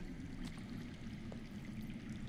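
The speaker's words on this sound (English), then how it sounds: "I hear water. From underground." Underground water flows steadily in a Game of Thrones video game scene, a faint, continuous low trickling rush with a brief splash partway through and no voices.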